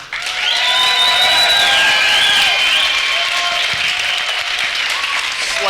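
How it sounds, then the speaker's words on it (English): Audience at a debate on open borders breaks into sustained applause, a dense wash of clapping that swells quickly and holds steady for several seconds, with a few cheers and whoops rising above it. "So by a round of applause, how many of you would agree with Larken?"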